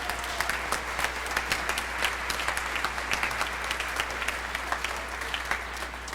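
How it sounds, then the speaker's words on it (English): Steady applause from an audience at a high school band spring concert, many hands clapping continuously at moderate volume throughout, with no talking over it. "I'd just like to give a big round of applause for all of our parents"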